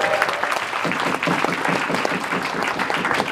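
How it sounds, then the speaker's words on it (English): A convention crowd at a brony gathering applauds in a dense, lively burst of clapping that stays loud and close for the whole stretch. "give him a round of applause for that"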